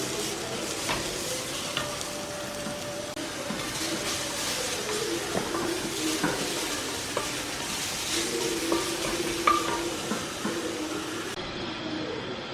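Ingredients for miso sesame ramen sautéing in a pan, a steady close sizzle with occasional stirring scrapes and clinks running throughout.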